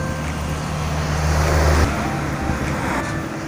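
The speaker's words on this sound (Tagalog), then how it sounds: "Ang ingay ng mga sasakyan." Steady road traffic on the Palm Jumeirah in Dubai, near the Raffles hotel: a continuous broadband wash of passing cars with a low engine rumble that swells as a vehicle goes by mid-way, no voices.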